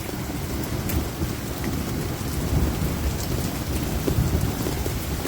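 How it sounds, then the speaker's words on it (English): Torrential rain with hail pours down in a dense, loud, continuous roar, with low rumbling thunder rolling beneath it and no voices. "Look at that thunder."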